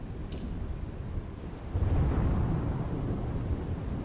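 Heavy unseasonal downpour with hail and strong wind in Bhavnagar, Gujarat, a steady dense roar of rain that swells louder midway, with low rumbling gusts and no voices.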